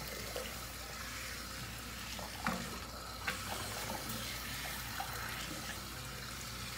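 Water rinsing a chihuahua during a bath, a faint, steady hiss of running water with a few soft splashes and bumps.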